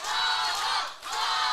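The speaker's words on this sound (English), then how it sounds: "What a live crowd we have here tonight, Walker. A very rambunctious crowd indeed" A rambunctious wrestling crowd cheers and roars at a live singles match, a loud, dense wall of voices that dips briefly before surging back.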